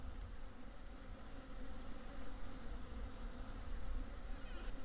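Angry bees buzz in the video game Vintage Story, a dense and continuous droning swarm with no speech over it.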